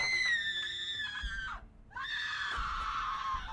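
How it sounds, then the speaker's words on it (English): A survivor screaming in Project Zomboid: a high, wavering human scream that drops off, breaks briefly, then resumes loud and strained, heard alone without speech. "Somebody's screaming. That's not good."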